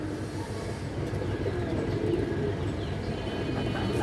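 A male giribaj pigeon, a Bengali high-flying breed, coos from a nearby loft in a steady, fairly loud run of low, throaty calls with no talk over them.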